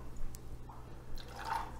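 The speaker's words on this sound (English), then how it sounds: "So put in 1 ounce of blue curacao." Blue curaçao being poured into a cocktail glass, a faint brief liquid trickle over a low steady room hum, with no one talking.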